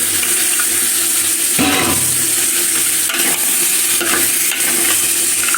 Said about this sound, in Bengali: ভালোভাবে লাড়া দিয়ে নেই।